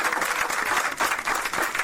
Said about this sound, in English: Please just listen and give him a round of applause